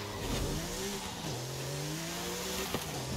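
A Porsche's engine in Forza Horizon 5 drones steadily as the car drives, its pitch sliding down and climbing again through gear changes, close and continuous with no talk.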